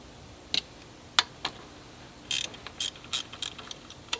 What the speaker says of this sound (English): I love those tools, the ratcheting wrenches.